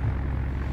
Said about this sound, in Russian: Ой, еще один самолет.